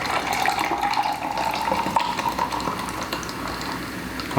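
Seltzer poured into a whiskey highball glass, a steady fizzing gush with a rising fill tone and continuous carbonation crackle, close and alone.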